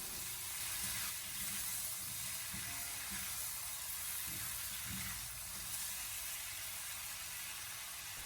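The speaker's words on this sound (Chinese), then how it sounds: "然后再继续的给它翻炒一小会，把它翻炒均匀，把蚝油的酱香味煸炒出来" Chicken pieces stir-frying with oyster sauce in a wok, a continuous close sizzle and hiss with light stirring scrapes, steady throughout.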